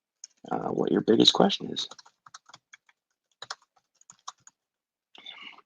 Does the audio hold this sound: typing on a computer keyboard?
yes